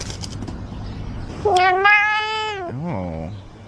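Cats meow in a talkative way: a long, drawn-out, rising-and-falling meow comes close and loud, then a shorter second meow follows, with a little low background noise before them.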